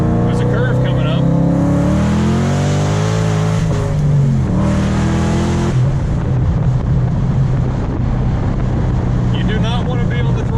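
Supercharged 5.0 Coyote V8 in a six-speed Mustang GT rolling on in third gear, with a loud rising engine note and harmonics climbing together, then a shift and a lower drone. Wind noise and a voice speaking over the engine.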